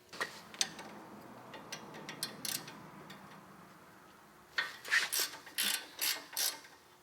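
A ratchet works on a Toyota spindle nut during a lift kit install, giving close, quiet bursts of clicking in short rhythmic runs separated by pauses.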